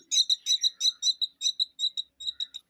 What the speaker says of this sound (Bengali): পাখিটা ডাকছে দেখুন